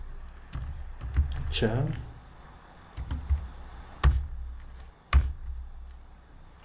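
Computer keyboard typing during C++ coding: irregular close key clicks and a few sharper taps, mixed with intermittent talk.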